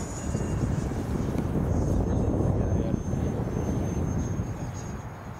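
A GCM Hornet F5K radio-controlled sailplane flies nearby, giving a steady rushing whoosh mixed with microphone wind noise that fades slightly toward the end.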